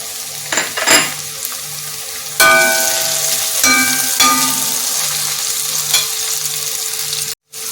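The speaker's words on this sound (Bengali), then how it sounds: "পেঁয়াজ, রসুন, আদাটা দিয়ে এবার ভালো করে ভেজে নিই।" Onion, garlic and ginger fry in a pan for a chicken kosha curry, giving a bright sizzle that swells when the aromatics go in, with scraping stirs and a few metal clinks, no voices.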